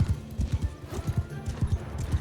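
Horse hooves from a mounted rider in Mount & Blade II Bannerlord battle, a steady galloping clip-clop rhythm of close, moderately loud thuds repeating throughout with no voices.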